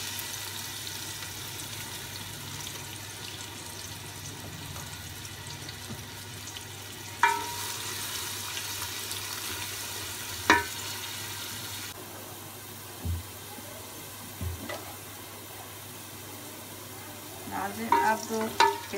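Chopped onions sizzle quietly in ghee on a tawa for chicken biryani, a soft continuous frying hiss broken by a few clinks and scrapes of stirring.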